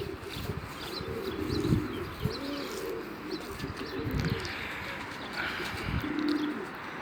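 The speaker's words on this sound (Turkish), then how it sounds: "Çok kuş var çünkü." Several pigeons coo in soft, rolling bursts, overlapping now and then, with light chirps and rustling around them.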